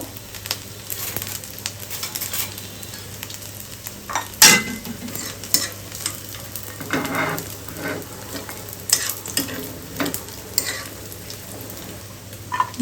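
Dried shark fries in a pan with a constant close sizzle, broken by spatula stirs and scrapes against the metal and a sharp clatter near 4.5 s, with no one speaking.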